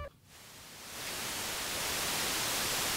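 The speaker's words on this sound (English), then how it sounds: "So that's my flat white noise from the Erica Synths modulator, my favorite white noise." A steady hiss of white noise from a synth module through a graphic EQ rises in brightness over the first second and then holds, loud and even, with no voices.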